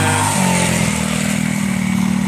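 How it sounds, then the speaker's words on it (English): A mini dirt bike at the Hollister mini bike track in 2015 rides past with a steady, fairly loud engine drone that shifts pitch early on, then holds an even buzzing tone, heard alone without talk. "First time Jeremy riding the bigger bike."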